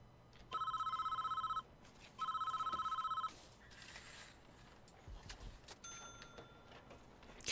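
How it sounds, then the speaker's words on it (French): Old-style telephone bell ringing in the prison-building video game Prison Architect, two loud trilling rings with a short pause between, followed by quieter game noises. "C'est chiant le téléphone qui sonne, hein."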